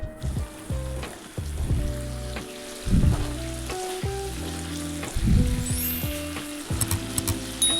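Water sweetened with powdered sugar boils hard in a pot on a gas stove for a Surti sev khamani chutney, giving a steady close bubbling and sizzling with louder surging bursts and no talk.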